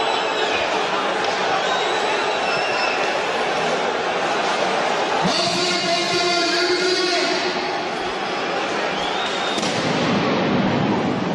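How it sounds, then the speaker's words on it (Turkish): Loud crowd roar with scattered sharp bangs and crackles, firecrackers going off repeatedly amid the noise of a packed arena at a Galatasaray versus Pınar Karşıyaka basketball game. "gitgide patlama sesleri de artıyor"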